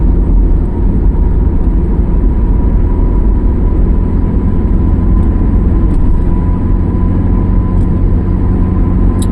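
Steady, loud road and engine rumble inside a car cruising on the Cipali toll highway as another fast car overtakes, a constant low drone with faint ticks and no talking.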